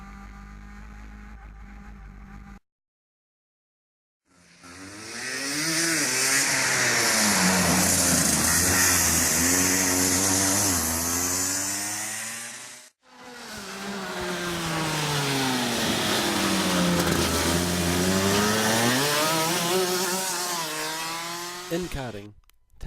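A go-kart on a wet track, its small engine whining loud and close in two long passes, the pitch climbing and dropping as it brakes into a tight corner and accelerates out, with a brief silent gap between runs.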